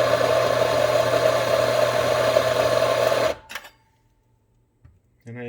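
An espresso grinder whirs loudly and steadily while grinding a coffee dose beside a La Spaziale Vivaldi II S1 espresso machine, cutting off abruptly, followed by a few small clicks and a brief restart.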